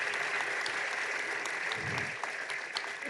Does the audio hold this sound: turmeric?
no